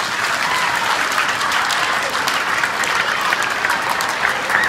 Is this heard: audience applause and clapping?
yes